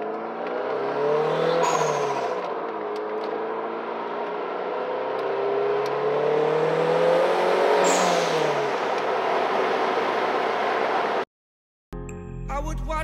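Toyota turbo sports car, an MR2 Turbo or Supra Turbo, driving on the road with a steady engine drone that rises and falls through two gear pulls, loud and close with no talk, before cutting off abruptly near the end.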